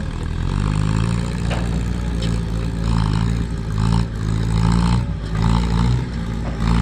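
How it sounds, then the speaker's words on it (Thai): A farm tractor driven hard on a rural work track roars loudly and continuously up close, its engine drone steady with clattering, rattling bursts riding on top. "ดูหมอตานเขาขับรถไถกันนะคะ"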